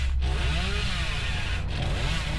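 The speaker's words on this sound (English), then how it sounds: "His chainsaw is one of those things where once you get used to it, you kind of never forget how to use it" A chainsaw revs loudly and steadily in the video game Dead by Daylight, a continuous close engine snarl with pitch wavering up and down, briefly dipping twice.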